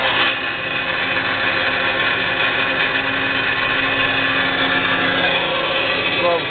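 A Kalamazoo 12-inch disc sander with a 1-horsepower, 115-volt motor runs alongside its dust collector, making a loud, steady motor hum and airflow roar from start to finish with no pauses.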